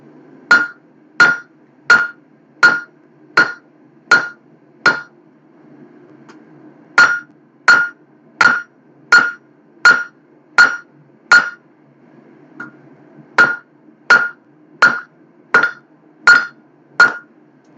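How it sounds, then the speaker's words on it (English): Steady rhythmic hammer blows on hot steel while a rose stem is forged, ringing sharply in groups of six to eight strikes separated by short pauses, loud and close with no talking. "I'm gonna hammer back on our corners."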